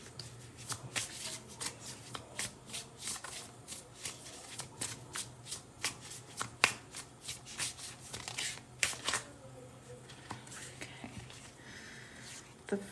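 A deck of tarot cards is shuffled up close in rapid, crisp bursts of riffling and flicking, the papery snaps coming in quick irregular clusters before tapering off, with no voices.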